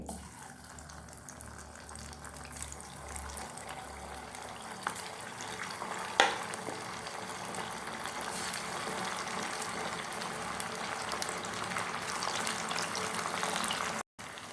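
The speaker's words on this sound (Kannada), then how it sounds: "ಈಗ ಒಂದೊಂದೇ ತುಂಡು ಹಾಕಿ ಫ್ರೈ ಮಾಡ್ಕೊಳ್ಳಿ." Chicken 65 pieces frying in hot oil, giving a soft, continuous sizzling hiss with a brief splash near the middle as a piece is dropped in.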